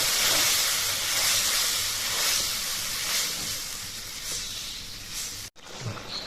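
Steady bubbling hiss of coconut milk masala boiling in a pot on the stove, continuous and close, with a brief cut near the end.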